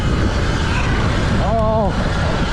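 A Surron electric dirt bike tearing along an off-road farm trail, steady broadband whine and wind rush throughout, close and loud, with a brief rising tonal squeal near the middle.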